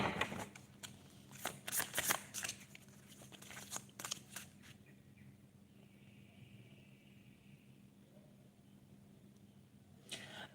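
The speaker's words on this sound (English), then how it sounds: "I'm going to start pulling some cards for you." Tarot cards being shuffled and pulled during a live reading, a run of soft, quick riffling and flicking bursts that gives way to a quieter stretch of faint handling, then a final brief shuffle.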